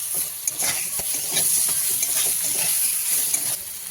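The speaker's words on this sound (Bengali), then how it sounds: "মশলাটাকে ভালো করে কষিয়ে নেব। দিয়ে দেবো কেটে রাখা টমেটো।" Spice paste with chopped tomatoes fries in hot oil for a potato and fish curry, a dense close sizzle broken by repeated stirring scrapes of a spoon against the pan.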